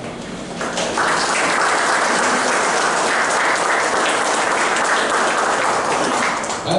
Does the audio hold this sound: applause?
yes